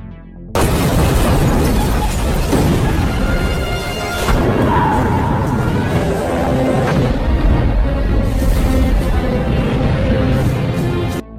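A secret base blows up in an action film, a loud sustained roar of explosion and debris filling the whole stretch after a brief quiet start, with swells of rumble and crashing layered throughout.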